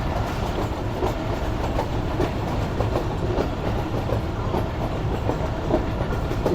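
A train runs on rails through heavy fog on a winter journey, with a steady close rumble and a continuous rhythmic clatter of wheels over the track.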